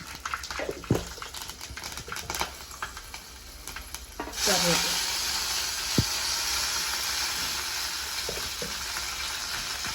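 Mustard seeds and roasted gram hit hot tempering oil and burst into a loud, steady sizzle after a few clattering knocks and taps, with crackling pops continuing close by.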